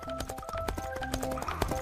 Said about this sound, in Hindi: घोड़ा मुंह से झाग निकालता हुआ तेजी से दौड़ रहा था